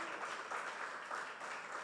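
Faint, distant applause from a church congregation during a sermon, a soft continuous patter of many hands with no voices over it.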